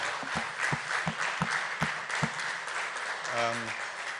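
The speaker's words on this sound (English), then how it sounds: "One is for the fantastic applause" An audience applauds a speaker, soft and fairly distant, as a steady wash of clapping with a voice speaking over it.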